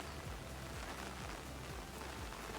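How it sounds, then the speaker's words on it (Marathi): Heavy monsoon rain pouring steadily over paddy fields near Valavali waterfall, a dense continuous hiss with no pauses, faint and distant, no voices. "डेंजर पाऊस आहे रे खतरनाक पाऊस लागतोय"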